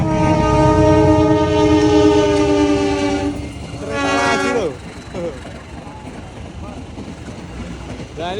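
A bus fitted with a telolet horn at a busy bus-fan gathering by the Al-Jabbar mosque in Bandung sounds a loud, sustained multi-tone chord for about three seconds, then a short rising sweep, before dropping back to engine and crowd noise.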